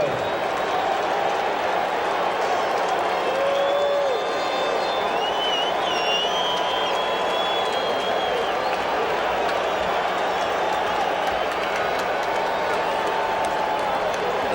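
Ballpark crowd at the 1986 World Series Game 2 between the Mets and Red Sox, a steady broad roar of cheering and applause filling the stadium, with a commentator talking over it.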